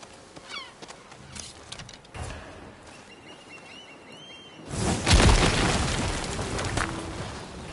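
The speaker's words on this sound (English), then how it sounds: "Scorch bombs." Scorch bomb explosions in the samurai game Ghost of Yotei: a loud, roaring blast erupts midway and lingers as a broad sustained burst, after quieter ambient clatter and faint bird calls.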